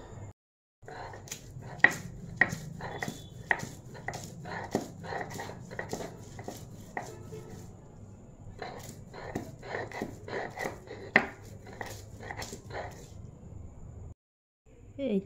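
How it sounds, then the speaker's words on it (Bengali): Ginger and garlic ground by hand on a shil pata grinding stone, a rhythmic run of knocking and scraping strokes, close and fairly soft, pausing briefly before a last stroke. "আমি এই শিলপাটায় আদা রসুনগুলো বেটে নিব"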